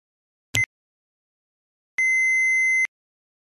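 A short electronic blip followed by a long steady answering-machine beep, a pure tone held almost a second before a recorded message, with no voices.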